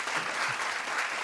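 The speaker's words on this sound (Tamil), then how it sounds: "நல்ல ஒரு கைத்தட்டு கொடுங்க" An audience claps steadily at a children's speaking competition, a dense, even burst of applause without voices, moderately loud and sustained.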